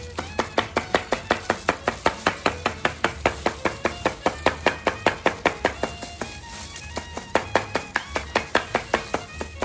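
Knife chopping catfish on a board while preparing Thai larb, a steady fast run of sharp, evenly spaced thuds close up, with a brief pause midway before the rhythm resumes.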